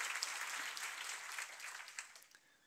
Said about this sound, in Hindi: ये दे के आई, ताली बजाओ उसके लिए।